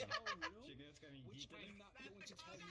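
A cartoon chicken bouncing in a video game gives a run of honking, squawking fowl calls in quick bursts, with a voice talking and laughing around them.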